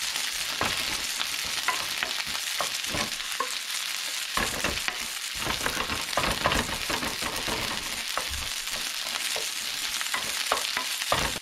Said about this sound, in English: start stir frying the rice.